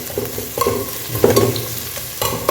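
Sliced onions browning in oil in a pan for Tamil Nadu kushka biryani, with a steady sizzle and occasional scraping stirs, close and continuous with no talking.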